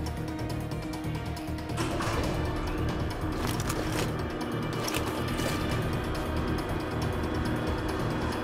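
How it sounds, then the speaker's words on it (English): An elevator in a shooter game moves along with a continuous mechanical whir and rattling gear-like ratchet, loud and steady throughout, with a slight shift as the motion picks up early on. "Frank, I'm in the elevator, heading to the command room"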